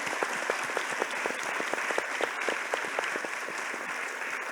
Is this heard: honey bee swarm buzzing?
no